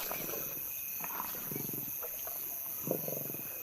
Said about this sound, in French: Après une période de famine et de privation, les jeunes lions peuvent enfin se remplir la panse.